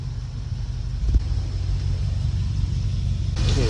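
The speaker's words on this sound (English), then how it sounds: "Hilux Surf off-road." A Toyota Hilux Surf crawling over rocks off-road, its engine a low, steady rumble at close range, with a brief bump partway through.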